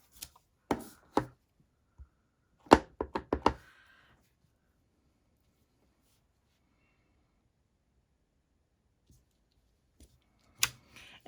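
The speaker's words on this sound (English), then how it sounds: "We're just going to stamp our greeting on the inside using the Happy Birthday stamp" Rubber stamp with a Happy Birthday greeting pressed onto the inside of a handmade card in Terracotta Tile ink, heard as a few sharp knocks and taps, a single one and then a quick cluster, set in near silence.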